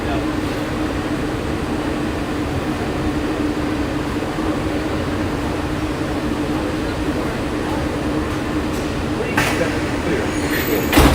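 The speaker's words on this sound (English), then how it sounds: "I know, Connor, we just missed the 50th monorail" A Walt Disney World monorail hums and rumbles steadily from inside the car, a continuous low drone with rail noise and faint chatter.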